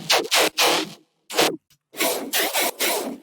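Brostep bass chug synth patch built in Vital, a series of short gritty, growling bursts with abrupt stops and gaps between them, loud and heard alone.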